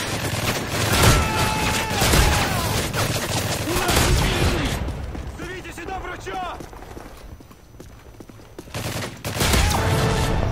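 Rapid video game gunfire rattles in dense bursts, loud and close, pausing briefly midway before resuming, with someone talking over parts of it.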